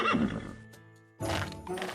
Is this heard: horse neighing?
yes